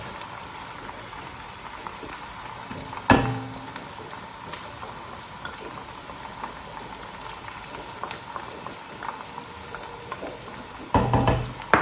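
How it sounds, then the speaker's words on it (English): Boiled lamb and yogurt going into a hot pot for lamb yakhni pulao, a steady low sizzle with two louder bursts of clattering and stirring near the start and end. "Now I'm going to add the lamb which has been boiled and the yogurt."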